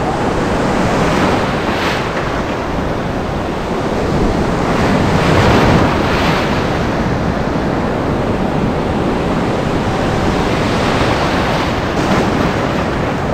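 Ocean surf pounds a beach in Goa where people are surfing, a loud continuous roar with swelling breaks, heavy wind buffeting the microphone throughout.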